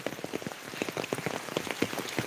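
Steady rain patters on a surface, a dense hiss of drops with no voices, fairly close and even throughout.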